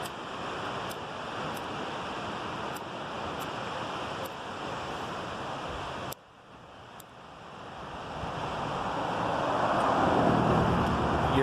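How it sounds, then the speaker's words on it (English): Pacific Ocean waves wash onto the North Coast shore at Crescent City, California, a steady broadband surf rush mixed with wind, briefly dipping then swelling louder toward the end. "I'm staring at the Pacific Ocean."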